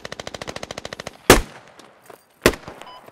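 Squad video game gunfire: a fast automatic burst of about twenty evenly spaced rounds, then two loud, sharp single shots with a brief echoing tail, close and without talk.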